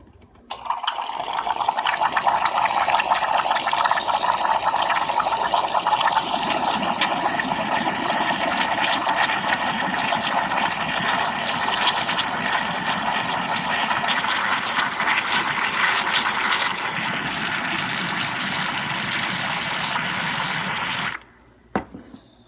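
An espresso machine steam wand froths half and half, a steady hissing, gurgling roar that runs loud and continuous for about twenty seconds before cutting off abruptly.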